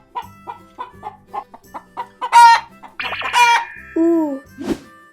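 A chicken clucks in a quick run of short, even clucks that build into louder squawking cries, then a few drawn-out calls, close and clear with no speech.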